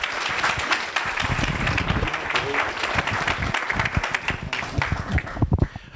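Applause at a student senate gathering for Representative Hatton, a dense steady patter of many hands clapping for about six seconds, fairly close, with scattered voices mixed in.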